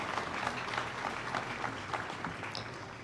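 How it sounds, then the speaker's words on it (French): An audience claps at a liberation anniversary ceremony, a steady wash of applause from a crowd, moderately loud and continuous throughout. "On peut les applaudir."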